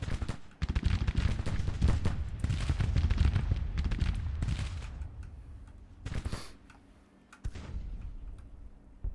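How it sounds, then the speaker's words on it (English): Skirmishers' muskets in Grand Tactician: The Civil War crackle in a ragged, continuous fusillade of overlapping shots, some near and sharp, others distant, thinning out toward the end with a few isolated reports. "Alright, they're firing."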